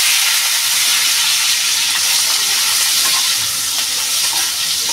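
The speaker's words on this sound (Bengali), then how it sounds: "আলুটা ভেজে নেব।" Potatoes frying in mustard oil in a pan for a pumpkin greens curry: a steady, loud, close sizzle and hiss runs throughout with faint stirring scrapes and no talking.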